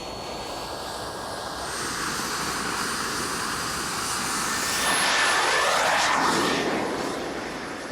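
Homemade jet engine heated by a camping stove, a continuous loud whooshing roar with a faint high whine that swells and fades slightly, similar to a passing aircraft, with no talk.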